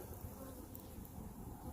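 Dense, steady buzzing of many honey bees flying around the entrance of a strong nucleus hive on a good flying day, a continuous close hum with no talk.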